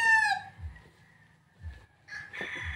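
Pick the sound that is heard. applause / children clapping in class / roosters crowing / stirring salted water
roosters crowing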